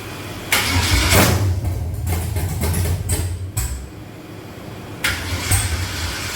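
A 3rd-gen Camaro with a swapped 5.3 V8 running sloppy stage 3 cams on a stock tune cranks and catches in rough bursts, sputtering and stumbling between sharp cranking hits at close range.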